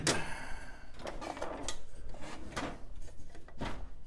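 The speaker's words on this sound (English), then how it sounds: "Knew it had to be in one of these drawers." A drawer slides open and shut during a search, with repeated scraping, knocking and rattling strokes close by, the sound dense and continuous.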